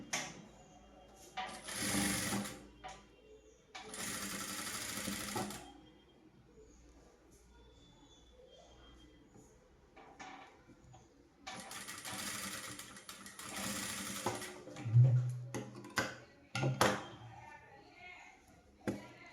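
A sewing machine stitches a baby blouse in short, whirring bursts of rapid needle chatter separated by quiet pauses, close and moderately loud, with someone talking between runs.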